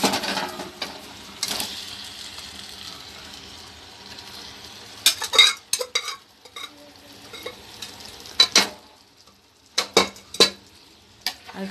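Beef pieces go into a pot of Kerala-style dum biryani with mint and coriander leaves and are stirred, giving soft scraping and clinking utensil sounds in bursts with pauses between them.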